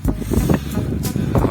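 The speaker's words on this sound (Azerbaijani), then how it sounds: "Hardasa 5-6 metr külək əsir." Strong wind, about 5 to 6 metres per second, blows across a Caspian seashore at Hövsan, roaring and buffeting the microphone in loud, uneven gusts.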